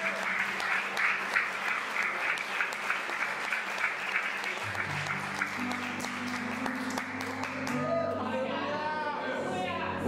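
Church congregation at a Brazilian worship service applauding, with dense sustained clapping for about ten seconds, voices and chatter mixed in, and a sung or spoken voice rising over it toward the end.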